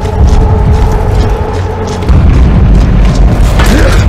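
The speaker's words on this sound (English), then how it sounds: "We need to get out of here before it explodes." A deep, loud, sustained rumbling boom from an explosion in the video game Gears of War Judgment fills the whole stretch at high volume, with a continuous low roar and clanking mechanical noise.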